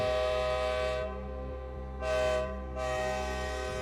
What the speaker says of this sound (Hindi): दूर घाटी से आती हुई सीटी जैसी आवाज